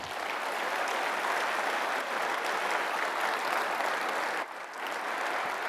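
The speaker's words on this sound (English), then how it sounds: "Let's give them a round of applause." Loud, sustained applause from a large crowd at a fire rescue conference, thick continuous clapping that dips briefly near the end before swelling again.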